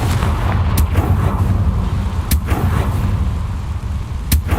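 A fire spell bursts in Hogwarts Legacy, a loud, dense low rumble of blasts with three sharp cracking impacts spaced across the scene, no voices.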